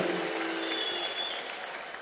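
A church congregation claps in a steady wash of applause with a high ululating trill riding over it, close and loud for about two seconds.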